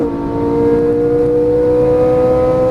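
Ferrari 458 Italia accelerating, a loud close engine whine holding a steady rising tone as it pulls, strong and continuous without voices.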